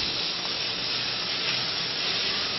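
Onions browning in a pan, a dense, even sizzle and hiss that holds steady and close throughout, with no voices over it.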